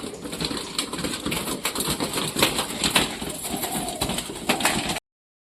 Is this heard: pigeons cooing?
yes